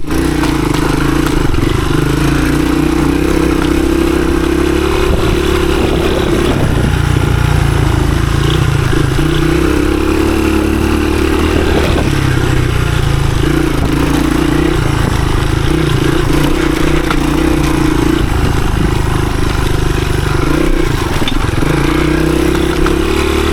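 A 1983 Honda XR200R dirt bike ridden along woodland trails, its loud single-cylinder engine droning steadily up close with the pitch rising and falling as the throttle opens and eases off.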